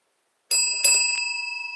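A bright bell, like a bicycle bell, rings out twice in quick succession, then a ringing tone lingers and slowly fades, loud and close with no voices.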